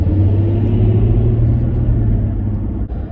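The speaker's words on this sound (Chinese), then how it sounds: "猛踩脚油门，还是可以听见这个发动机的怒吼的" A Toyota Land Cruiser LC300 GXL engine drones with a steady low rumble under hard acceleration from a start, heard close and continuous from inside the cabin with no talking.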